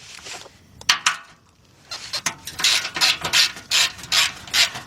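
A hand ratchet loosens the frame bolts on a Kia Sorento: loud, close, rapid clicking ratchet strokes come in bursts with short pauses, alone without talk.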